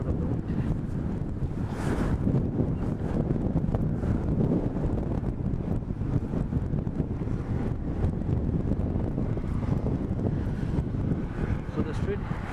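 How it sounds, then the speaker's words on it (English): Strong wind buffets the microphone beside the lake along Lakeshore Boulevard West in Etobicoke, Toronto, a steady low roar with gusty rumble that continues throughout the clip. "You get lots of wind."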